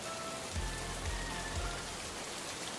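Rain falls steadily in a cartoon, a soft constant patter with a few low thumps early on and no voices.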